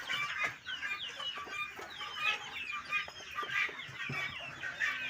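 Backyard village chickens feeding on chopped banana stalk and grass cluck and chatter steadily and close by, many overlapping calls filling the whole stretch with no talk.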